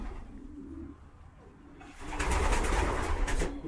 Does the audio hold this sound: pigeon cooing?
yes